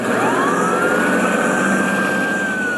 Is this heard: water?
no